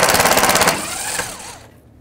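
A 10 mm headlight bolt on a 2002-06 Toyota Camry is worked loose with a tool: a loud, fast rattling burst of clicks for most of a second, then a softer, fading mechanical tail.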